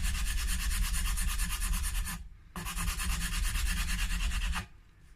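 Sandpaper rubs across a guitar nut's string slots in steady rapid back-and-forth strokes on a Schecter Hellraiser 7-string being converted to six strings, close and continuous, with one short pause midway before the scratching resumes.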